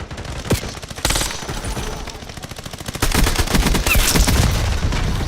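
Rapid automatic gunfire rattles through a Black Ops 7 match on Nuketown, with steady bursts of close shots, a couple of louder single reports, and dense continuous firing in the final seconds.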